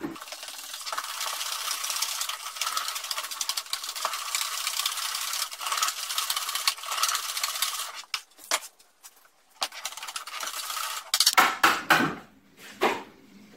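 Ingredients are stirred and mixed in a container, giving a steady, close scraping and rattling that runs continuously for about eight seconds, then breaks into shorter, louder bursts of stirring and knocking with brief pauses, with no talking.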